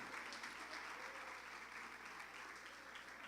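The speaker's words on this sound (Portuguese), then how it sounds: "Aplaude esse Deus Todo-Poderoso." A church congregation claps together through a worship service, a continuous broad wash of hand claps with a faint low hum underneath and no clear voices.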